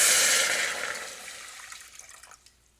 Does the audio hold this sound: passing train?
no